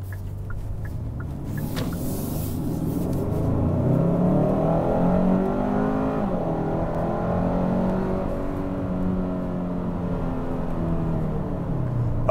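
A Hyundai Sonata N Line with a 2.5-liter turbo engine in Sport Plus mode pulls hard, its rumbling engine note climbing through the gears. Heard from inside the car, it is steady and moderately loud with no talking.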